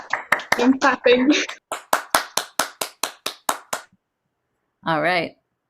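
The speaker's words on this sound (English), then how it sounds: "I'm clapping." Small audience at a student piano studio recital clapping after a young performer plays, about a dozen sharp, evenly spaced claps close by following brief cheering voices, then a short spoken remark after a pause.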